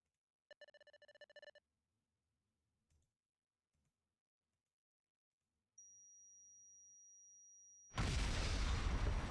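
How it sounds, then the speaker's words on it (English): A gacha video game story scene: after beeping tones and a long steady electronic tone, a loud explosion bursts in and roars on to the end. "Oh, and there's our obligatory explosion."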